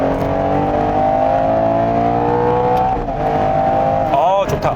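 A 720-horsepower Ferrari Purosangue engine pulls hard under acceleration, a steady dense roar with rising harmonic tones that shift and climb near the end, loud and continuous under occasional talk.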